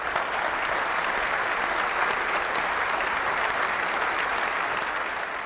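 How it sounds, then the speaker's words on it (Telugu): A television game-show studio audience claps loudly and continuously, a dense, even wave of applause holding steady throughout. "Give him a big round of applause."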